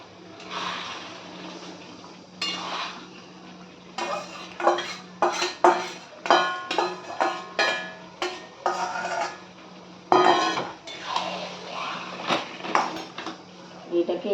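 Marinated mutton, coated in turmeric, mustard oil and yogurt, tipped into a pot and stirred, with repeated close metal clanks and scrapes of a spoon against the pot in an uneven rhythm, plus a soft hum underneath.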